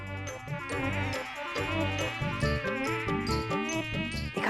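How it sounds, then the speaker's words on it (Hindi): Mosquito buzzing in a cartoon scene set around a chair, a continuous whining drone with a steady level and layered tonal backing, close and unbroken, with no talking. "मच्छर यहाँ कुर्सी पे है।"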